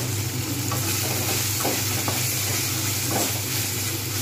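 Ginger garlic paste frying in a hot pan of oil while cooking kabuli chana paneer, a loud continuous sizzle with a few scraping stirs, close up and with no talking.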